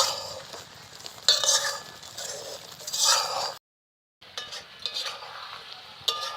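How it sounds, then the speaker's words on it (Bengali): A spoon stirs and scrapes olive pickle cooking in a pan, with faint sizzling and a few clinks, broken by a short silent gap. "ঝোলটাকে আর একটু টানিয়ে নেব হালকাভাবে এভাবে নেড়ে চেড়ে দিব"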